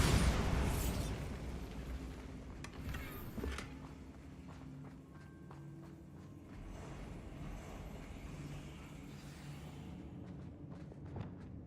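A Bombarda blast spell in the Hogwarts Legacy video game lands as a sharp burst, followed by a rumbling explosion that fades into a low wash, with scattered smaller pops and steps afterward.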